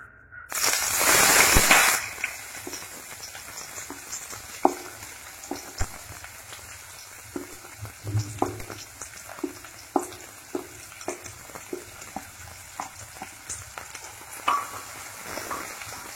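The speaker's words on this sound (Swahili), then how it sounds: "Mafuta yakisha kupata moto, tutatia vitunguu vyetu." Onions dropped into hot oil in a cooking pot burst into a loud, dense sizzle for a couple of seconds, then settle into a quieter crackle punctuated by repeated scraping stirs and light clinks of a spoon.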